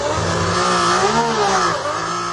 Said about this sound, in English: Can you hear the misfire?